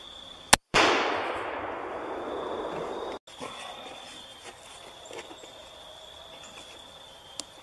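A single sharp gunshot fires a hollow point bullet into jugs of wet rags outdoors, loud and close, followed by a brief rumbling echo and a faint metallic clack a few seconds later.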